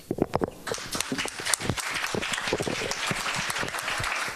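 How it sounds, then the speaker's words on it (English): Audience applause at a city council candidate forum starts with a few sharp, separate claps, then swells into a full, steady round that carries on evenly to the end, fairly close and loud. "I know everybody appreciates the applause"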